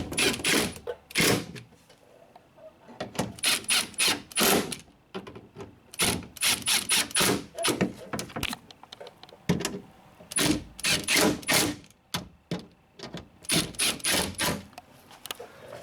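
Three bolts on the rear window regulator of a 2009 Honda Civic are tightened with a ratchet, giving close, loud bursts of rapid clicking that start and stop repeatedly, with short pauses between.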